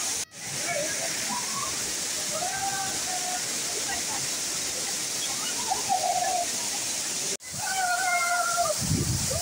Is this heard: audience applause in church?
no